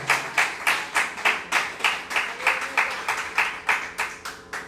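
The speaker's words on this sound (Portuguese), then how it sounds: "Aplauda o Senhor com o seu melhor." A church congregation claps in unison, a steady rhythmic beat of about three claps per second, close and even throughout.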